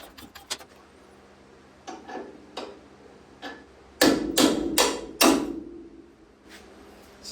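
Hammer striking a bolt during car front suspension work, sharp metallic blows that start as scattered light taps and build to several louder, ringing hits near the end.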